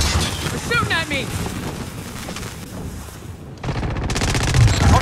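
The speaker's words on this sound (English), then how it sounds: "They're shooting at me." Rapid bursts of gunfire in the battle royale shooter Call of Duty Warzone on Rebirth Island, loud and close, with crackling shots and whooshing wind-like noise between volleys.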